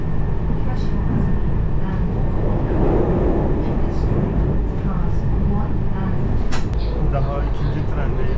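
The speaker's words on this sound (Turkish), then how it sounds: "Daha ikinci trendeyim." A train ride in Japan gives a continuous rumble and rattle of the carriage, close and steady throughout, while people talk faintly in the background.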